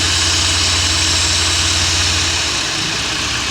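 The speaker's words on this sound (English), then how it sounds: "You can hear the tone of the engine change," A Chevrolet Impala engine idles steadily with its brake booster vacuum line pinched off to trace a lean-condition vacuum leak, a loud continuous low rumble whose tone shifts near the end.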